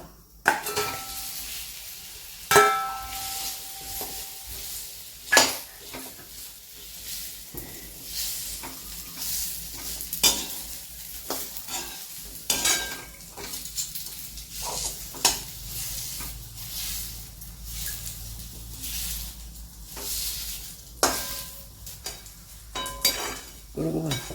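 Dates going into a pan where edible gum has just been fried, stirred with a spoon: a low sizzle runs throughout, punctuated by sharp clinks and scrapes of metal against the pan at irregular intervals.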